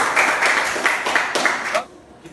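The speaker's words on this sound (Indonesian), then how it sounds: "Berikan tepuk tangan buat teman kita ya" Classroom applause for a student classmate, a dense burst of many hands clapping that fades out near the end.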